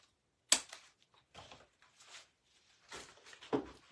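Wreath flower stem being snipped with cutters, a few sharp, close clicks and small rustling handling noises against a quiet background, the sharpest snap near the start and another toward the end.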